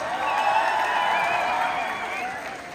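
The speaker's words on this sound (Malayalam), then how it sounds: "എല്ലാവരും ഒരു കൈയടി കൊടുത്തേ ഗൈസ്" A crowd at a film promotion event for Tovino Thomas's movie ARM applauds and cheers a young boy, a dense, steady wash of clapping and voices that holds loud throughout and eases slightly toward the end.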